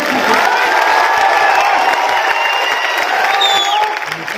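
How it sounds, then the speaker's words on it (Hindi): A festival crowd at a birthday celebration and tableau procession in Patna claps and cheers, a dense continuous roar of applause with shouts and whoops, loud and close throughout. "नए में आ गए हो तो एक बार ताली बजाइए आगे"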